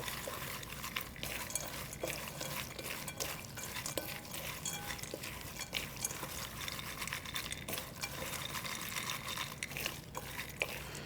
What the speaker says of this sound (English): Give them a good stir. Make sure the chickpeas get nice and coated with that spice mix.